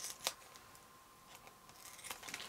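Scissors trimming material for a no-sew crochet hook case: a few faint, quick snips spaced apart in a quiet room, with no talking.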